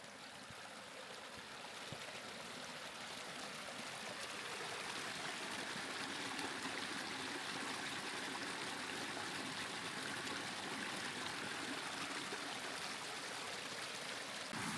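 Natural spring water trickling and flowing on a hillside farm in Norway, a soft, continuous, even rush of running water heard faintly and alone throughout.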